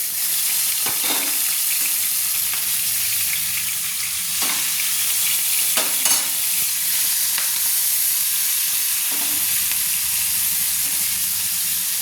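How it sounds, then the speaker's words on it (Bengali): Turmeric- and salt-rubbed prawns fry in hot mustard oil, a steady loud sizzle with occasional stirring scrapes throughout, no voices. "আমি চিংড়ি মাছটাকে ভেজে ধুয়ে যে লবণ হলুদ মাখিয়ে রেখেছিলাম আমি ভেজে নিচ্ছি"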